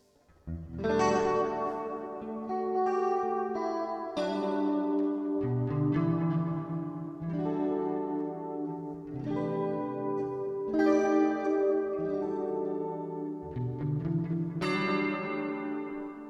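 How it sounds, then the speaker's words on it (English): Electric guitar notes and chords ring out one after another through a Gamechanger Audio AUTO reverb pedal, bathed in lush reverb and echo that lets each note linger and wash into the next. "And reverb."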